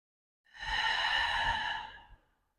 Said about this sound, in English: Taking a deep inhale and exhale.